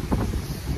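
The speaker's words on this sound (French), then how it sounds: "Oula, il y a du vent partout." Gusty wind buffets the microphone in low, rumbling bursts, loud and close, with no voices.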